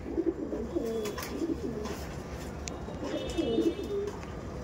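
A female Andhra pigeon coos softly in a series of repeated low, throaty calls, fairly faint against a quiet background, with no one speaking.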